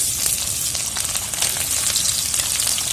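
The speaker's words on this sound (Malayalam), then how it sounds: "നമുക്കിനി ഇത് കോരിയെടുക്കാതെ ഇന്ന് അതേ വെളിച്ചെണ്ണയിലേക്ക് തന്നെ നമുക്ക് ഉള്ളി ഇട്ട് കൊടുക്കാം" Chopped onions dropped into hot coconut oil in a pan, giving a steady, dense sizzle and crackle that runs evenly throughout, close and fairly loud with no voices.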